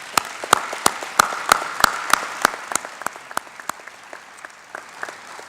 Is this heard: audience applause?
yes